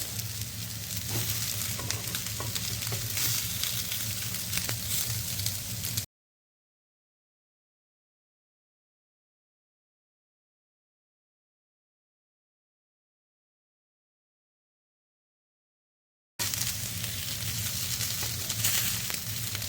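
Kofte meatballs of fatty minced beef sizzle and crackle in a frying pan, a steady close hiss heard alone, broken by a long silent gap in the middle.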